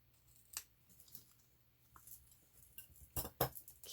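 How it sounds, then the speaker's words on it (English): Scissors trim fabric for a ruffle trim in a few short, crisp snips, with a louder pair of cuts near the end against a quiet room. "So I'm just going to trim this straighter."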